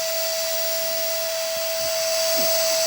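A Dremel rotary tool with a diamond bit carving soft balsa wood gives a constant high-pitched whine, loud and close, with a few faint grinding scrapes as it bites in.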